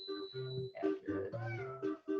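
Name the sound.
cat meowing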